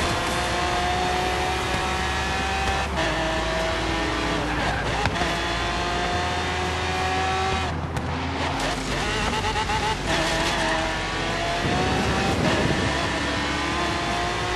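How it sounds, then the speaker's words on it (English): Loud, sustained car engine drone with shifting revs and gear changes in Forza Horizon 3, set in Australia, running continuously with occasional talk underneath. "Let's hope it picks up the sexy car sounds."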